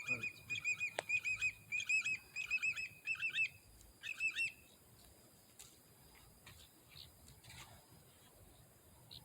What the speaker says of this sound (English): That's a pretty little bird.